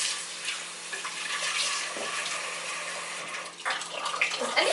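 Water pours steadily from a kitchen faucet, a continuous broadband splash and hiss that shifts slightly as the stream is adjusted, with a few clinks near the end.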